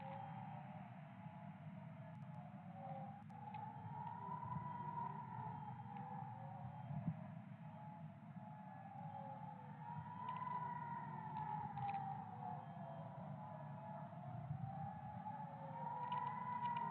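Air raid sirens during regional attacks wail in slow repeated rising and falling cycles over a steady hum of background noise, distant and sustained throughout.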